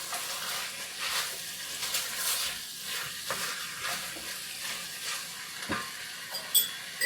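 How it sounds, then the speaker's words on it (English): Pork and peppers sizzle in a hot pan with sake and soy sauce as a spatula stirs them, a steady frying hiss broken by irregular scraping strokes, close and moderately loud, with no talking. "And let's give this a quick stir over here."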